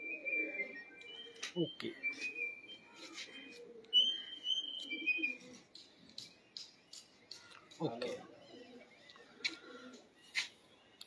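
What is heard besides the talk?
pigeons cooing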